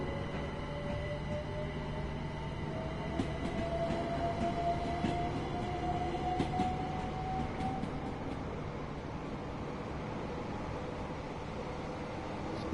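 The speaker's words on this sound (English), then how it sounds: "sometimes you'll get a train come up the side of us" A second train running alongside a Gatwick Express between Brighton and London Victoria, heard from inside the moving carriage as a steady rumbling roll with a rising whine and faint wheel squeal, no talking.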